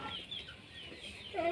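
A hen clucks softly near her chicks at home, a few short close clucks and a higher chirp at the end, quiet and brief.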